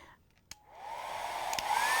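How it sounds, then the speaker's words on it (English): A hair dryer used for blowing acrylic paint switches on with a click and spins up to a rising, steady whoosh that grows louder over two seconds. "let me make sure that my hair dryer is ready to go"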